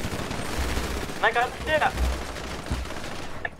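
Gunfire rattles in a video game shootout during a gang drive-by on the North Side, with repeated shots mixed with game sounds as players talk over the action.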